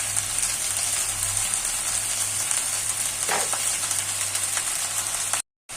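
Lote fish (Bombay duck) and spice paste fry in a pan with a steady, close sizzling hiss that holds evenly throughout, then cuts out briefly at the very end.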